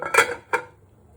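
A metal lid set onto a cooking pot of sour tomato curry with mola fish, two quick clanks close up, the second lighter, then quiet.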